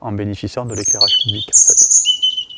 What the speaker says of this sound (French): Donc là on entend un chant assez aigu, assez mélancolique, c'est le chant du rouge-gorge